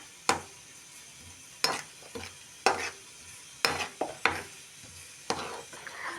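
Cumin powder roasts in a pan for paneer masala. A spoon scrapes and stirs in repeated sharp strokes against the pan, with a faint sizzle between them. No one speaks.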